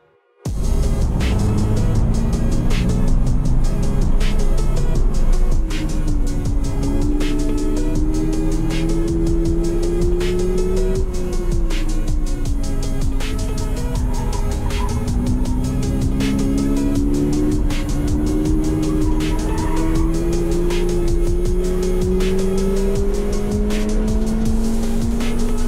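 A stock Subaru BRZ lapping a race track, its engine loud and constant throughout, the pitch rising and falling in long sweeps as it accelerates and lifts through corners, with some tire noise and no talk.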